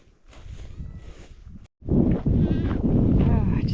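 Goats grazing outdoors bleat in a loud, close, wavering cry amid wind noise and rustling, following a quieter stretch of outdoor background.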